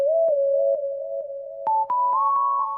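A dry synth lead in a rage-style beat plays a simple melody of short, plucky repeated notes that step upward near the end, clean and close with no added effect and no voices.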